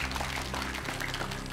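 A studio audience on a television show bursts into dense, continuous applause, many hands clapping loudly and close for the whole short stretch with no pause.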